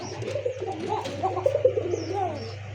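Caged pigeons, satin and Giribaz breeds among them, coo softly in repeated rolling phrases close by, with a low hum underneath and no speech.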